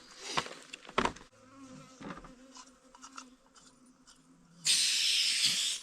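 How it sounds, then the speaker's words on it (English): Bees buzz around a hiker's campsite on the Appalachian Trail, a wavering insect drone close by with a few knocks and rustles, then a loud steady hiss rises near the end. "I'm about to start killing them. What? The bees."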